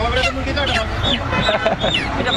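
A chicken being held squawks and clucks in loud, close bursts while several people talk and call out around it.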